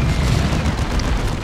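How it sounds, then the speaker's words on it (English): Orbital bombardment explosions in the strategy game Warhammer 40000: Dawn of War II, a continuous deep rumbling boom with dense low-end roar held steady throughout, loud and without talk. "We'll hit them with orbital bombardment."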